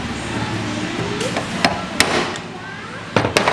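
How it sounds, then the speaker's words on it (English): Several sharp metallic strikes of a big hammer on a chisel, working on a Nissan 350Z drift car, ring out, one near the middle and a quick pair toward the end, over a steady background hum. "chisel and a big hammer works."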